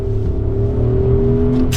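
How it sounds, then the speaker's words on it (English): Steady, close engine drone from the twin-turbocharged V8 of a 2024 Porsche Cayenne S Coupe, a constant cruising rumble with a faint rise in pitch throughout and no one talking. "Proper V8, twin turbocharged V8."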